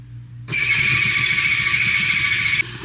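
A clothes dryer gives off a loud, steady high-pitched squeal or whine for about two seconds over its low tumbling rumble, then stops abruptly.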